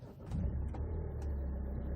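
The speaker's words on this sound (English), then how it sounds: "Let's start the engine." A 2008 Kia Carnival 11-seat diesel with automatic transmission cranks briefly and then catches, settling into a low, steady, close-up idle rumble.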